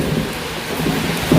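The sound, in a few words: rain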